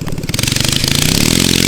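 A 450cc twin-cylinder engine mounted on a push lawn mower revs up loudly and close, its throaty rumble climbing into a rapid, steady pulsing as it accelerates.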